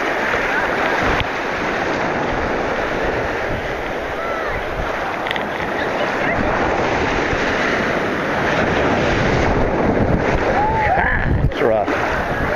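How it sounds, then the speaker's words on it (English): Ocean waves at Virginia Beach, a continuous loud wash of surf mixed with gusty wind buffeting the microphone, with a few faint higher calls near the end. "I like waves, Virginia Beach."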